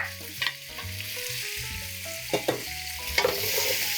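Garlic and ziti fry in olive oil with a constant close sizzle. Several sharper stirring scrapes and clinks break through at intervals, with no talking.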